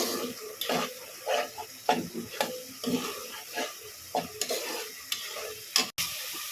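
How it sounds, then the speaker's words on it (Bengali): Goat meat cooking with garlic paste, ginger paste, cumin, coriander, chili, turmeric and salt, stirred steadily in a pan, scraping strokes over a soft sizzle, close and moderately loud, no talking. "রসুন পেস্ট, আদা পেস্ট, জিরা গুঁড়া, ধনে গুঁড়া, মরিচ, হলুদ, লবণ সবগুলো দিয়ে এখন ভালো করে কষিয়ে নেব"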